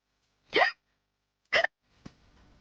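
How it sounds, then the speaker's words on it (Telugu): Two sharp hiccups about a second apart, fairly close and clear, followed by a fainter third catch of breath in a quiet room. "ఎక్కిళ్ళు తగ్గిపోతాయి."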